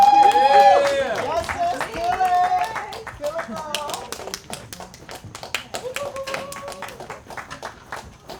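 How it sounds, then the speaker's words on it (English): Clapping breaks out for a comedian at a backyard stand-up comedy show, rising under a host's voice as he talks and then continuing as scattered, moderately loud applause once the talking thins out. "Come on, round of applause."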